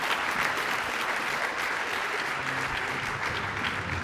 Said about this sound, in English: can we give a giant round of applause to all these incredible men and women for their achievement?